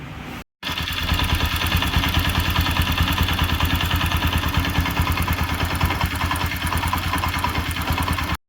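A Bajaj Pulsar AS200 BS3 motorcycle engine with a damaged valve guide idles steadily close by, a continuous rhythmic chugging thrum with no voices, after a brief gap at the start.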